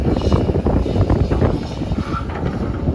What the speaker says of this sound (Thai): ลมจัดเลยครับ